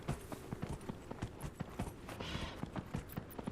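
Horse hooves clip-clop softly and rhythmically in Dragon Age Inquisition, a steady quiet trot with faint game ambience behind it.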